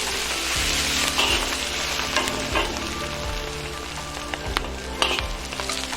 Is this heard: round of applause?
no